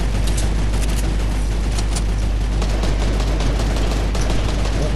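Dense, continuous gunfire and explosions from a Fortnite match, a steady unbroken barrage of shots at close range with no speech over it.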